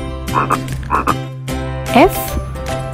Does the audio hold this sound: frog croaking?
yes